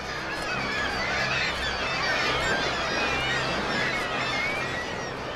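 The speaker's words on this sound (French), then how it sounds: "Les mouettes tridactyles ont passé l'hiver au large. En mars, elles viennent nicher à terre." Kittiwakes calling at coastal nesting cliffs in the Arctic, a dense loud colony of overlapping harsh cries that continues without pause.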